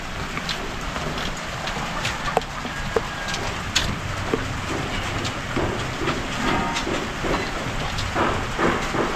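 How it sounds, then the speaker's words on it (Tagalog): Steady rain pours down over a construction site where tie beams are being installed, a dense continuous patter with scattered sharper drips and knocks, no talking. "Umulan na mga master."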